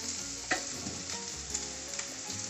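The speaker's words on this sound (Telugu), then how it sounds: "మంచిగా ఫ్రై చేసుకోండి." Onion and green chillies fry in a pan with a steady close sizzle, broken by a few sharp clicks and scrapes of stirring; no one speaks.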